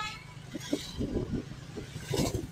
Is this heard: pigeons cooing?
no